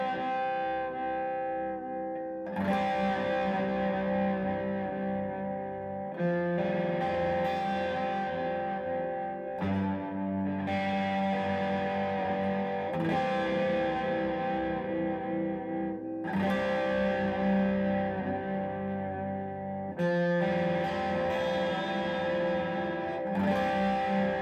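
An electric guitar rings out chords with open strings through distortion, chorus and echo effects, several sustained strums each left to decay before the next, loud and alone with no talking.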